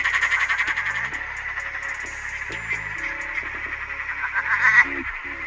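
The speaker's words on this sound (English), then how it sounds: "And the noise coming out of this place is just unreal. The amount of frogs down here around this beautiful dam with all reeds everywhere" A dense chorus of frogs croaks continuously around a reed-fringed dam at a bush campsite in New South Wales, Australia, with overlapping calls forming a loud, steady wall of sound that swells briefly near the end.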